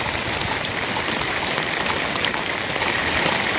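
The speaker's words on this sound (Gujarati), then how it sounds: "જોરદાર વરસાદ છે." A downpour drums onto a flooded cotton farm field, producing a steady, loud wash of rain with scattered nearer droplet taps and no voices.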